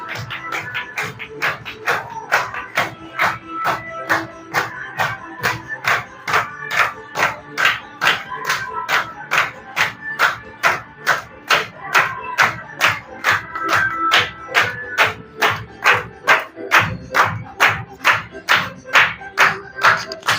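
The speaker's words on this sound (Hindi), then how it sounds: "आप लोगों की जोरदार तालियों से उनका स्वागत करना चाहता हूँ" Audience at a marketing-plan workshop in Aklera welcoming a speaker with sustained rhythmic clapping, loud and steady for about twenty seconds, with a lively crowd murmur underneath and no clear talk.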